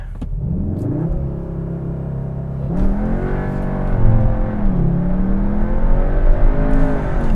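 A 2022 Cupra Leon ST estate with a 310 hp engine and 4Drive launches hard from a stop with launch control, its engine roaring loudly as the revs climb through the gears, close and alone.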